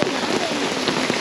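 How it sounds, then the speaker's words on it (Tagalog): Heavy, continuous rain pours down at a campsite near Metro Manila, a dense steady hiss of drops striking surfaces with no break across the short stretch. "Ang maganda lang kapag gantong tuloy-tuloy yung ulan, meron tayong unlimited source of fresh water."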